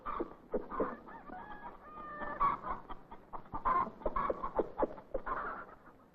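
Chickens cluck and a rooster crows in a 1940s farm setting where poultry shelter under trees, a busy chorus of clucks and calls, moderately close and fairly faint, with no voices.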